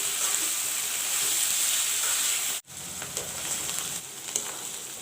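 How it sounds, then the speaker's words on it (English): Half a head of cabbage fries in hot oil, a loud, dense, continuous sizzle that drops out abruptly for a moment and then resumes just as strongly. "This is half of one full cabbage. This also I will fry it little bit."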